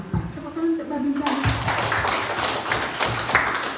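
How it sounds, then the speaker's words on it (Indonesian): Audience at an army district command (Kodim Belu) gathering in NTT on the Indonesia–Timor-Leste border breaks into dense applause, a steady wash of claps after a brief spoken phrase at the start. "Tepuk tangan untuk Babinsa."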